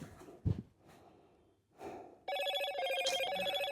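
A phone rings with a steady electronic tone that starts suddenly after a few breathy sniffs and sighs and carries on close and clear to the end.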